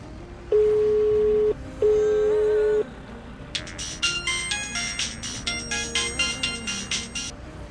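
Two long dial-tone beeps, then a bright, repeating electronic ringtone melody rings out clearly and loudly.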